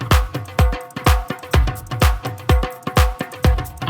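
Pop beat built from kick drum and snare layered with mridangam, dhol and dholak: a steady, punchy rhythm of deep thumps and sharp hand-drum hits repeating about twice per second, loud and up front with no voices.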